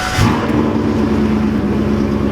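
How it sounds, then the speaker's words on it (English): A car with a Coyote engine swap idles steadily after starting, a loud, close, low rumble holding even throughout with a brief louder burst at the very beginning. "So let's just turn on the car."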